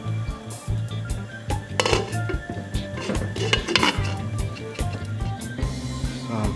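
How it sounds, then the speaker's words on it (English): A pot lid clatters onto a pot of Jamaican rice and peas, metallic clinks and knocks of cookware repeating over a low kitchen hum, close and fairly loud. "Cover it up and just let it cook and continuous check on it."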